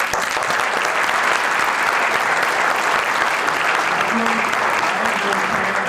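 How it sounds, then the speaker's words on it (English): An audience at a full debate breaks into steady, sustained applause, dense clapping that fills the room evenly for several seconds. "We can give applause."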